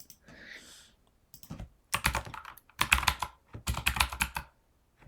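Clicky keystrokes on a computer keyboard come in several quick, close bursts separated by short pauses, loud and clear with no talking.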